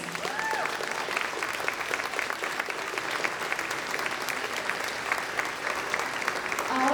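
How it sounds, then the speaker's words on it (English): Audience applause at a local pageant, sustained even clapping from a seated crowd, moderately loud and continuous, with faint voices briefly audible under it near the start. "You deserve a round of applause."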